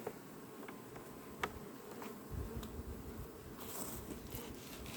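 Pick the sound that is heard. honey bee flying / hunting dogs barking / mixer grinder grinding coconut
honey bee flying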